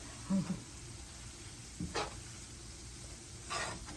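Garlic frying in a pan sizzles faintly and evenly. A few distinct scrapes and clinks of stirring come close by, spaced out over a few seconds.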